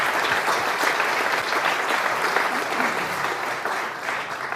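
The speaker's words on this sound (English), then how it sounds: "Another big round of applause for our first president, George Washington," Warm, dense applause from a crowd at an outdoor America 250th anniversary celebration, steady and moderately loud, easing slightly toward the close.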